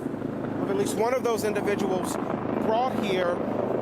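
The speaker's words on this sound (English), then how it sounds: "There's a helicopter flying over at the moment" A helicopter flies overhead near a shooting scene, its rotor rumble a steady low background drone while a person speaks over it throughout.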